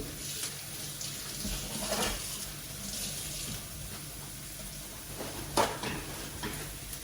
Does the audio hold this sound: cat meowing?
no